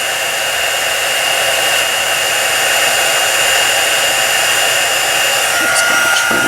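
A heat tool blows steadily while melting embossing powder on a stenciled rose card, a loud, continuous hairdryer-like whoosh with no talking throughout.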